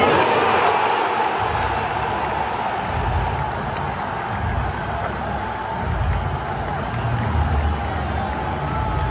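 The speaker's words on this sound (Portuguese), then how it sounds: "a torcida tem uma atmosfera muito diferente lá de Madrid, é bem mais alta, muito mais barulhenta" Marseille fans at a Europa League match against Ajax roar as a dense stadium crowd, a loud and continuous wash of chanting and cheering with rolling swells throughout.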